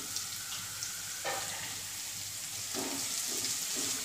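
Turmeric, half a teaspoon, drops into a hot pan of lightly sautéed ingredients for a bottle gourd curry, giving a steady close hiss of frying with brief brighter sputters as the spice hits the oil.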